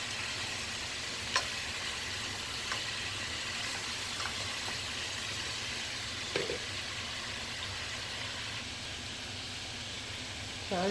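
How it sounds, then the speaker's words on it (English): Beef short ribs brown in a pan with a soft, steady sizzling hiss and a few faint pops, heard close and quiet with no talking. "the meat is just about done browning"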